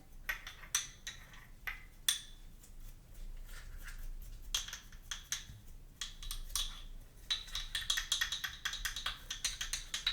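Clattering and clinking of hard parts of a coffee maker being handled, with scattered taps, knocks and scrapes at close range, alone with no talk.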